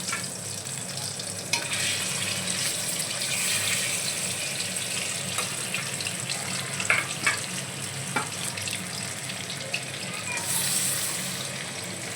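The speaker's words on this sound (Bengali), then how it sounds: "মাছগুলো আমি সব ভেজে নেবো এইভাবে ভাজা হতে থাক" Bhangar fish frying in a pan: loud, steady close-up sizzling and spitting with occasional clinks and scrapes, continuing throughout.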